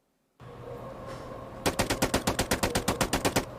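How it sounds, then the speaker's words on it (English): Automatic gunfire plays in a video game editor, a steady rapid burst of about fifteen evenly spaced sharp shots following a short stretch of low hum. "We have automatic fire."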